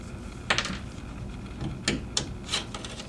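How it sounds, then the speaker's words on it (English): A punchdown screwdriver backs the screws out of a wall jack faceplate, giving a few short, close scraping and clicking bursts separated by quiet pauses, with no talk. "First you would take the punch down screwdriver to take off all the faceplate screws."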